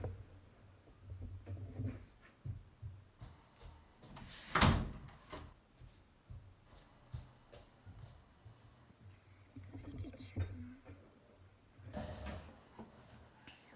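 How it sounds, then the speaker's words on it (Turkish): A door closes indoors with one sharp, loud thud midway, surrounded by quieter rustling, handling noises and faint movement before and after. "Kapatayım şu kapıyı."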